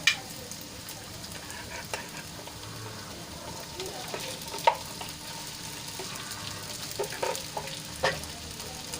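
Soaked sago pearls are stirred into sautéed potatoes in a pan for sabudana khichdi, making a steady close sizzle broken by scraping spoon strokes and occasional louder knocks.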